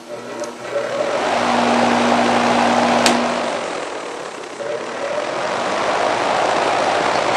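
An old two-speed electric fan motor runs at high speed, giving a steady airy whir over a low hum, with one sharp click near the middle and a slight dip in level afterward.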